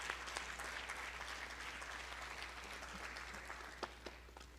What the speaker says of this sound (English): let's give all of them another huge round of applause